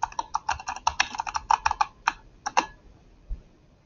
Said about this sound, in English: you can type it here